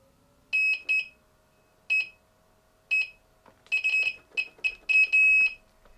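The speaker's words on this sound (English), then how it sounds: "Oh, it stopped beeping, which is good." An electric unicycle gives a series of loud, close electronic beeps: single tones and short double pips early on, then a quicker cluster of beeps toward the end, with no talking.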